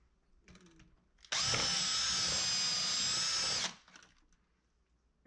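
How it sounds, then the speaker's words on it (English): A power drill bores out a hole in a sculpted figure, a close high-pitched whir lasting about two seconds that starts abruptly and winds down, with quiet handling noise before and after. "Drill it out just a little bit more."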